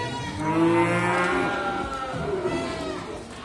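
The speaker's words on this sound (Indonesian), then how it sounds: "Nah, ini ada pedetan sapi betina yang baru saja masuk dengan kualitas super teman-teman" A young female Simmental calf moos loudly and close by at an animal market, one long drawn-out bellow that fades gradually, with faint crowd noise behind it.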